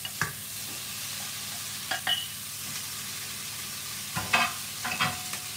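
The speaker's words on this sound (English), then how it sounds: "Give that a stir." Rice with vegetables stirred in a pan with a utensil, a low background sizzle punctuated by a few sharp scraping clacks, close by and fairly quiet.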